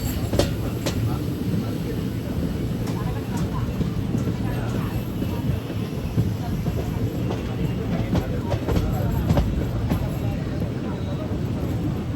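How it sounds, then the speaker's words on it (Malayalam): A train passes nearby on tracks close to Tirunelveli, a continuous rumbling roar with faint rhythmic clatter, heard from aboard another moving train. "അതിലൂടെ മറ്റൊരു ട്രെയിൻ കൂടെ പോകുന്നത് കാണുന്നില്ലേ?"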